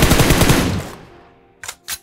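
Loud burst of rapid automatic gunfire in PUBG Mobile, dense and continuous for most of a second, then trailing off before two short, sharp single shots follow.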